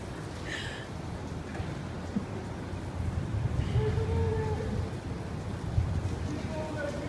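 Steady rain during a thunder and hail storm, a dense wash of drops on surfaces filling the whole stretch, with faint distant voices underneath.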